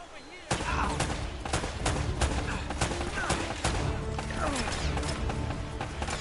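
Rapid bursts of gunfire during a firefight in Uncharted: Drake's Fortune, loud repeated cracking shots and impacts coming in quick irregular volleys over a dense, noisy background.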